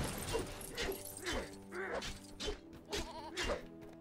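A goat in the LEGO Lord of the Rings video game bleats repeatedly while being struck, wavering cries mixed with clattering hit and smash effects, about six in quick succession.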